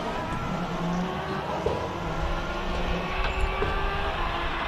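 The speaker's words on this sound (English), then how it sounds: "It is a brutal sounding car as well." High-powered race car climbing a hillclimb course, a steady broad engine roar that holds at one level with no break.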